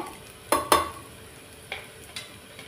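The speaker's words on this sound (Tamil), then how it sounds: "இப்போ வெங்காயம் நல்லா வதங்கிடுச்சுங்க" Onions sauté in a pan with curry leaves and green chili under a low, even sizzle, broken by two sharp spatula knocks near the start and a few lighter scrapes afterward.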